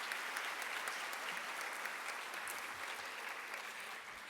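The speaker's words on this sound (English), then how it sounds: "If they would stand and let us applaud them for their leadership." Steady, even applause from a convocation audience honoring a school principal and superintendent, a soft, continuous patter of many hands tapering slightly toward the end.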